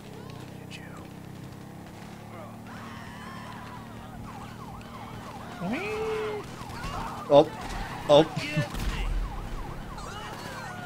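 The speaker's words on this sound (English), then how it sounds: "you have your siren on" A wailing police-style siren runs steadily under Grand Theft Auto riot-mod game sounds while a voice makes brief exclamations, with a few loud thumps near the end.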